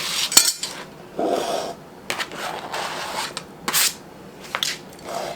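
A knife cuts a peeled cucumber into chunks for a chilled summer salad, with a few uneven bursts of chopping and scraping against a hard surface, close and moderately loud.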